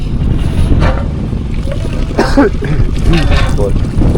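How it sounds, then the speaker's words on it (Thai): Strong wind buffets outdoors in a village in southern Laos, a loud rumbling gusting roar under people talking. "ลมมันพัดเนาะ"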